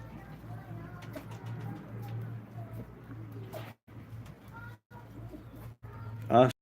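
Live pigeons at a bird auction in Kırıkkale cooing softly in the background under near-continuous talk from an auctioneer, with a low hum and a brief louder flutter near the end.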